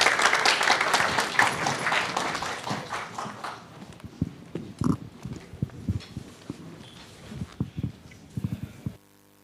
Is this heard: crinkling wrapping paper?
no